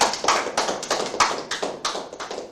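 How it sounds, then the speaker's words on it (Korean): An audience claps for children at a Korean rose of Sharon event, giving a short burst of quick, irregular applause close by. "박수 한번 부탁드립니다. 이 어린이들에게."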